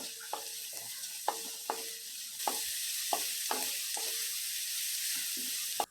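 Chopped onion sautés with a little salt in a pan for Maggi noodles, a steady soft sizzle broken by repeated sharp scrapes and taps of a stirring spoon, close and fairly quiet.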